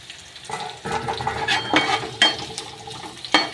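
Dried red chillies frying with onions in hot oil, a steady sizzle with stirring scrapes and a few sharper clinks of a spatula against the pan, close and moderately loud with no talk.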